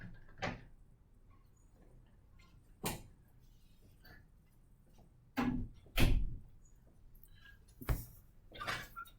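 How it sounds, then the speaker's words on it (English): A classroom door is closed, giving several sharp broadband knocks and thuds at irregular intervals over quiet room tone, moderately near with no talk. "go grab that door."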